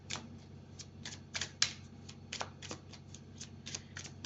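Tarot cards are shuffled by hand in a quick run of crisp riffles and flicks, close and clear, with no voices.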